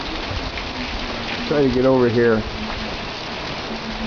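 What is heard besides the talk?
monsoon rain falling while the sun shines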